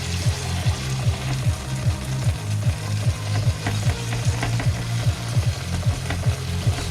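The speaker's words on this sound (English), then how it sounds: "Stir fry these a little bit." Instant soy sauce chow mein noodles stir-fried in a pan, a loud continuous sizzle cut by rhythmic, repeated scrapes of a spatula, close and alone.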